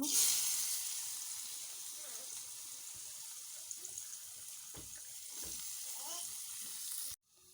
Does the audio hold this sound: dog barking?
no